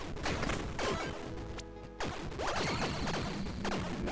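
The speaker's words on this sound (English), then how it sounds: "So many explosions. So many explosions." A rapid barrage of explosions in the game Tiny Rogues, with loud, dense crashing bursts that come one after another and briefly drop out near the middle.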